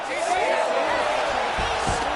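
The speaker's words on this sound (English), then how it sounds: "Crowd goes crazy as she reverses the position." Simulated arena crowd from the UFC 306 video game roars steadily throughout a women's ground-grappling exchange, a dense continuous cheer with a commentator's voice running over it.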